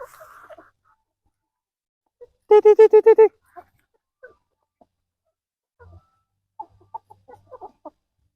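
Rhode Island Red and Black Australorp chickens at feeding time, with a loud, close burst of rapid rhythmic clucking calls, then scattered faint clucks and soft sounds in a quiet setting.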